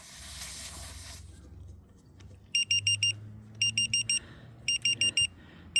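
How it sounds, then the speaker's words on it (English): A solar TPMS tyre pressure monitor sounds its flat-tyre warning: repeated bursts of sharp, high electronic beeps in quick clusters, loud and close, following a brief hiss of air. "we have an alarm sounding here, so we're getting obviously a flat tyre"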